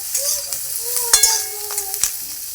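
Slit green chillies dropped into hot oil in a village-style kitchen, a steady close sizzle and frying hiss with a few sharp spatters and light clinks of a utensil, no talking.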